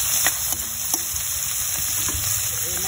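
Chicken browns in a hot pan for sotanghon soup, a loud close sizzle with a few scraping stirs of a utensil against the pan.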